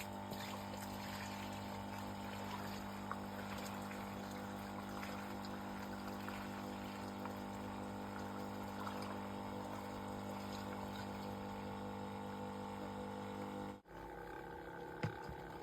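A water pump runs with a steady, droning mechanical hum at a constant tonal pitch, without a break, briefly cutting out near the end before resuming.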